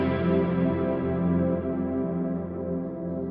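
Guitar through a reverb pedal set to an unmodulated room setting, one sustained strummed chord decaying slowly with a soft, even room tail, fairly quiet and alone.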